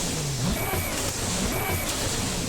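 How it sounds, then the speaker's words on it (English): Steady car engine drone in the No Hesi driving game, with a turbo whistle rising and falling over a continuous, fairly loud rumble. "It's just a turbo like here."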